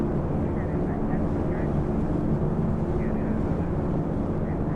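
Steady low drone of DC3 piston engines in X-Plane 11 during mountain flying, a dense continuous rumble with someone talking over it.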